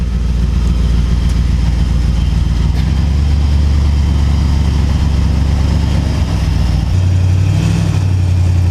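A Ford F100 truck engine runs steadily at idle with a deep, loud low rumble, then revs up toward the end, the pitch and loudness climbing for the last couple of seconds.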